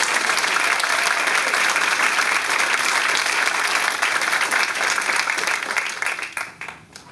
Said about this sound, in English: one more round of applause for all of our new assistant principals.